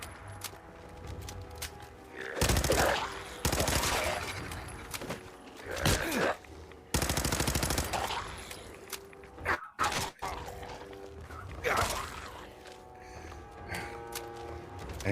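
Gunfire in the Fallout 4 video game during a fight against ghouls: several loud bursts of shots in quick succession, separated by brief lulls and game ambience.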